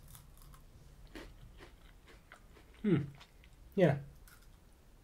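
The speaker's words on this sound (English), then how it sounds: "There's lots of wafer crunch there as well." Two crisp crunching bites into a Kinder Bueno White wafer bar land close to the mic about a second apart, with a brief spoken word and light chewing between them.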